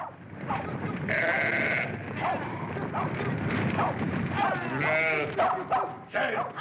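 Several sheep bleat in overlapping, wavering calls, fairly close, with steady background rustle and a few short animal cries mixed in.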